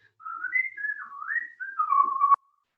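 A child whistles a single wavering, birdlike tune to imitate chirping birds, a clear, faint, continuous whistle that glides up and down before stopping abruptly.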